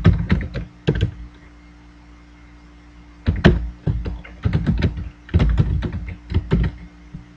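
Computer keyboard clattering as C# code is typed, close keystrokes arriving in uneven clusters with short pauses between runs.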